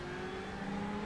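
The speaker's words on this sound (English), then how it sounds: "Car on your left." A Ferrari 488 GTE race car drones at Interlagos in a racing game, a steady tonal engine whine with clear harmonic lines that lift slightly in pitch midway, loud and continuous with no voices.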